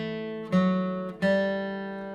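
Acoustic bluegrass guitar plays the short closing lick of We Wish You A Merry Christmas, two plucked notes ringing out clearly and sustaining alone without talk.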